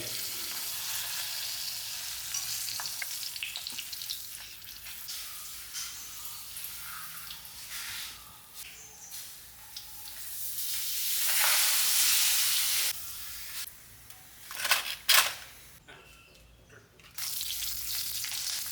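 Pappadam frying in hot coconut oil, a steady crackling sizzle nearby that swells into louder bubbling bursts partway through, then falls back to a quieter hiss.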